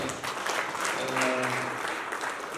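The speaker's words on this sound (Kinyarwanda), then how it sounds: "Rero rwose mubabera amashyi twakira Pastor" A church audience applauds to welcome a pastor, a dense even clapping that holds for a couple of seconds at moderate distance, with a faint tonal murmur underneath.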